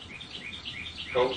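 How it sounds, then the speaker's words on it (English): A bird calls outside in a steady series of bright, repeated chirps at moderate distance, and a voice briefly speaks near the end. "I was hearing the bird outside."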